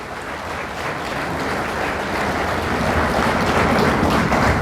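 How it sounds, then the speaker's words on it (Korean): Steady, dense applause from a large assembly of newly elected National Assembly members fills the room, holding loud and even for several seconds with no voices on top. "서로의 인연을 축하하면서 박수 한번 크게 치십시오."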